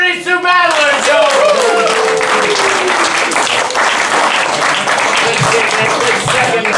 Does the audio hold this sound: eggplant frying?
no